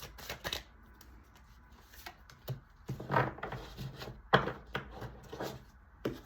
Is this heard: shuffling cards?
yes